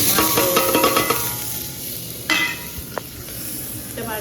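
Whole spices, dry red chillies, cumin, carom, fennel, mustard, fenugreek and asafoetida drop into hot oil, giving a loud close sizzle that gradually settles into a softer steady fry, with one sharp clatter partway through.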